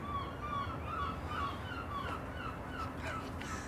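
Gull-like cries from a TV sitcom scene, several harsh calls in a row over a steady background hiss, moderately loud and fairly close, with no talking.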